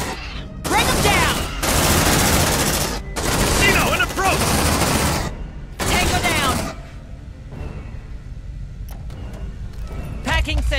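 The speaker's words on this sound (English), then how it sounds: "Sentry gun." An automated sentry gun in the sci-fi game Aliens: Dark Descent fires long, loud sustained bursts with brief pauses between them, followed by quieter crackling and scattered shots.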